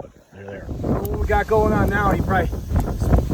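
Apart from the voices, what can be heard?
wind blowing outdoors at a lakeside campsite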